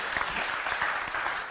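An audience claps at a talk on self-healing, a brief burst of close, even applause.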